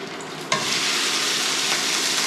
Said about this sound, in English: I'll add in some olive oil. Just gonna dump in my grounded pork chops.